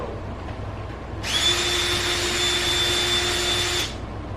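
A power drill whines steadily for a few seconds at close range, drilling thin metal for a motorcycle exhaust install, a high, even buzz that starts abruptly and cuts off cleanly.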